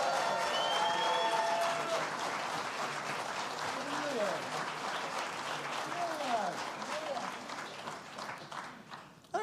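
An awards concert audience breaks into sustained applause that starts loud and gradually thins out, a dense wash of many hands clapping with voices mixed in.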